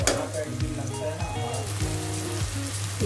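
Spice masala cooks in a pan with Kashmiri red chili powder, cumin powder and a pinch of asafoetida for a fasting-style chana masala. A steady close sizzle and fry runs throughout, with a few soft scrapes from stirring.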